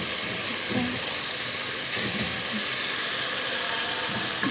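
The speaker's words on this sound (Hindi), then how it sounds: "मसाला हमारा बहुत अच्छे से भून चुका है ये" Prawn karahi masala with tomatoes frying in a pan, a steady close broadband sizzle running throughout with a few soft stirring knocks, no talking.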